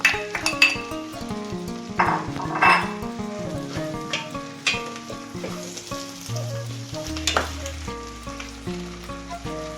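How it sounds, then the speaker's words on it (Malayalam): Egg goes into tomato rice in a hot pan, frying with a loud, steady sizzle close up, broken by repeated clinks and scrapes of a spoon stirring against the pan. "നമ്മൾ ലാസ്റ്റ് മെയിൻ മുട്ട ഇട്ട് കൊടുക്കുകയാണ് കേട്ടോ"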